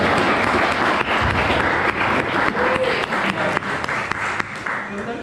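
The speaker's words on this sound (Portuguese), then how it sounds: "Queria pedir a vocês que recebam com uma salva de palmas muito calorosas" Audience applause at a liberal political event in Brazil, a dense, steady crowd clapping that carries on for several seconds with a few sharper claps and some voices mixed in.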